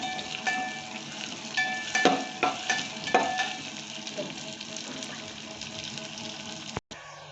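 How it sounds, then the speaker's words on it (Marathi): Onions sizzle in hot oil in a pan, with a busy crackle and repeated scraping stirs for the first few seconds that then settle into a softer steady fry, ending with a brief clunk; no talking. "प्याज छानसा परतून घ्यायचा"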